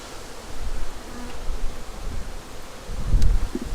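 Honeybees buzzing around a national 4-way mating hive during queen rearing, a close, continuous droning hum that swells and fades as bees move, with a brief louder pass near the end.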